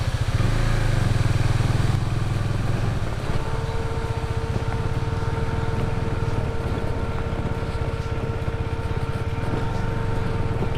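Motorcycle engine droning steadily on a ghat road near the Bisle Ghats viewpoint in Sakleshpur, a constant close hum with a low rumble and a sustained whine, ridden slowly with no talk.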